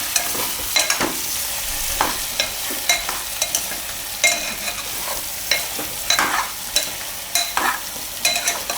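Chili powder being stirred into hot oil in a frying pan for a Gujarati pumpkin shaak, with steady sizzling and repeated scraping stir strokes close up, no voices.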